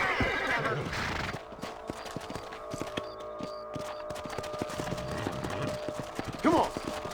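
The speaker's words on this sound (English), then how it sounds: "Let's get back on the horses" Horses in the Red Dead Redemption game whinny loudly near the start and again near the end, while steady hoof clip-clops tap along throughout amid outdoor ambience and talk.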